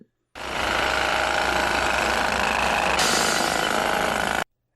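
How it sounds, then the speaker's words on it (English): A man-operated jackhammer in the film Total Recall, loud continuous rapid pounding that starts abruptly, runs for about four seconds and cuts off, with no voices over it. "but jackhammers are still man-operated because we just like how it makes us jiggle"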